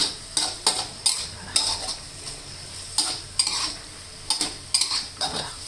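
Pork stir-fries with banana peppers under a soft sizzle, and a spatula scrapes and clanks against the pan in quick, uneven bursts of stirring, close and fairly loud, with no one speaking.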